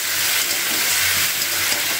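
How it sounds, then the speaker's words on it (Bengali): Bhola fish stir-fried in a pan with turmeric, chili powder, cumin powder and chopped tomato, giving a loud, steady sizzle and hiss with faint stirring scrapes and no talk. "এবার ভালো করে এটাকে আমি কষিয়ে নেবো মশলার সাথে।"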